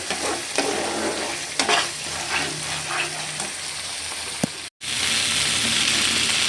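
Spice masala frying in oil for chicken maharani, a close crackling sizzle with scraping stirs. It cuts out briefly, then returns as a brighter, hissier sizzle.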